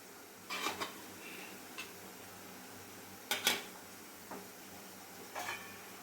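Steel idli steamer plates and lid clink and clatter while sago papads steam, a handful of sharp metallic knocks spaced apart over a quiet background, no speech.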